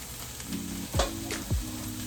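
Drained ground meat goes back into a skillet with a close, steady sizzle, broken by a couple of scraping stirs and a low hum. No voices are heard.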